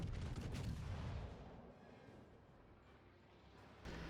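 Naval gunfire aimed at the Graf Spee in World of Warships, fired from the Bismarck: a loud booming salvo at the start that fades into a low rumbling tail, then another thump near the end.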